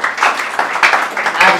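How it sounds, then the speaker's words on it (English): Wedding guests clapping for a couple returning to their seats, a continuous fairly loud patter of many hands with swelling bursts. "Let's clap for them till they get back to their seat"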